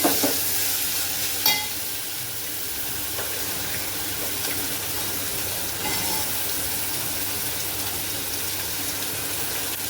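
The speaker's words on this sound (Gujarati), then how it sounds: "અને હવે એને એકલા તેલમાં ચડવા દેવાની છે." Banana peels and chillies fry in oil with a steady, close crackling sizzle that carries on evenly throughout, broken by a couple of brief clinks near the start.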